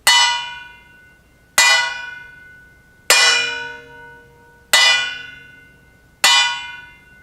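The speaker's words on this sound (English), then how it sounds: "It could be a bell chime for a clock in town square." Five evenly spaced metallic clangs from a pot lid ring out like a clock bell, each struck hard and left to ring and fade before the next.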